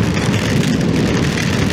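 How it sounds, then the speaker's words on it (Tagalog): Heavy rain during a stormy overnight camping trip, a dense steady hiss and patter of drops pouring down without pause, close and loud, with no talking. "Walang tigil ang ulan"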